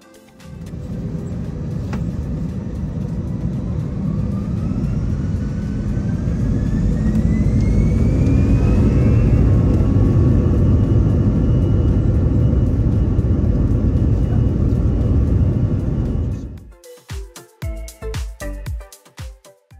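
The jet engines of an Avianca Airbus A319 spool up for takeoff on the runway, heard from inside the cabin. A deep rumbling roar builds with a rising whine, stays loud and steady for about sixteen seconds, then drops into uneven rattling and thumps.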